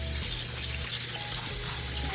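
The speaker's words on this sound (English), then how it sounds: "With running water." Tap water runs steadily over frozen store-bought shrimp in a sink to thaw them, a continuous close gush with no talking.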